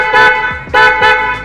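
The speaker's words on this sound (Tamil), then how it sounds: "இது வந்து வோல்க்ஸ்வாகனோட அந்த ஹாரன் டைப்பு. இதுலேயே நமக்கு இது குரோம் ஹெல்லா பிராண்ட்." A chrome Hella car horn of the Volkswagen type sounds in three close, loud honks, each a bright, buzzy tone, with the middle and last blasts nearly running together.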